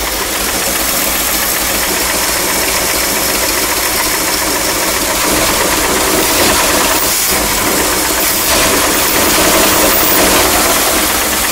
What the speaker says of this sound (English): The exhaust sounds awful, absolutely awful.